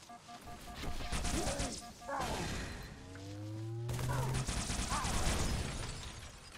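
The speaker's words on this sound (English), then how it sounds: "That was a nice explosion." Explosions and gunfire in the video game Halo 3 fill a dense, loud stretch of rapid shots and crashing blasts, with a sustained low rumble and sweeping tones in the middle.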